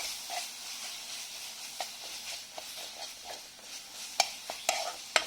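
Garam masala, cumin powder and coriander powder being stirred into hot oil in a pan for a cauliflower paneer gravy, a soft sizzle under repeated scraping strokes of a spoon with a few sharper metallic knocks, close and fairly quiet.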